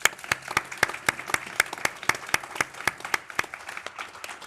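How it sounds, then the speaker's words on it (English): A few people in an audience clap for a panel at an AI conference, with distinct, evenly spaced claps close by rather than a large roaring crowd. "so maybe a round of applause."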